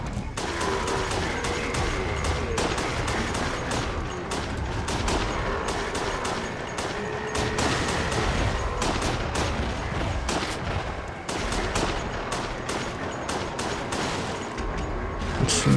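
Dense, continuous video game gunfire, rapid bursts and crackling shots with heavy booms rolling over about sixteen seconds, loud and near, with no voices.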